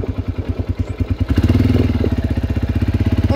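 A small ATV engine putters close by in rapid regular pulses, revving up partway through and then running steadily louder.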